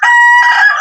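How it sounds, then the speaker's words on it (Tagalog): A rooster crows once, close and loud, a clear drawn-out harmonic call with a slight break partway through, alone with no talk. "Pati nga itong tumitilaok na ito."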